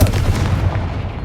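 A Confringo blasting spell explodes in Hogwarts Legacy with a short, loud boom that quickly fades into a rumbling tail.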